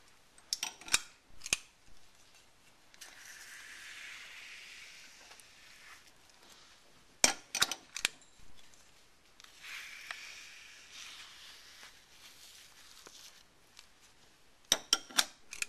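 A spoon scrapes and digs into firm frozen plum port sorbet in sharp, crisp bursts, a few quick scoops, then quieter scraping, then more scoops, close up.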